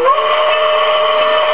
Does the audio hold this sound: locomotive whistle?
yes